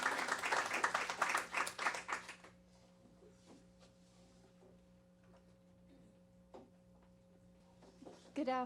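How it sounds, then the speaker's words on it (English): A room of attendees at a talk on homelessness and shelter gives a round of clapping for about two seconds, then it stops, leaving a quiet room with faint hum and a few small knocks. "I really would like to acknowledge Marshall and give him a round of applause as well"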